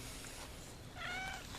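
A pet cat meows once, a short, faint, tonal cry heard from a little distance over steady outdoor background noise in a garden.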